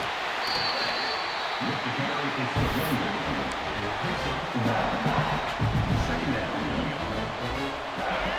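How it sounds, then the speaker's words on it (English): Stadium crowd at a college football game between Toledo and Georgia roars continuously, a broad dense wash of cheering and shouting that swells in bursts, with a commentator talking over it. "Listen to the crowd energy here in the early going."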